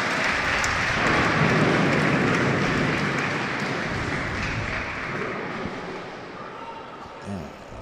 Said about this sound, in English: mega applause in this match.